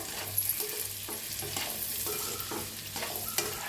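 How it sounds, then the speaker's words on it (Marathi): Eggs seasoned with salt and turmeric sizzle in a frying pan while being turned, a continuous crackling fry broken by several soft scraping strokes of a spatula, close and alone with no voices. "त्यावर टाकूयात थोडंसं मीठ, थोडीशी हळद। आता अंड्याला फिरवून घेऊया।"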